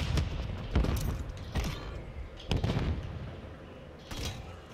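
Sharp, fairly loud rifle cracks in an online shooter, a sniper firing from near a gas station, with several separate reports spread over a few seconds against background game noise.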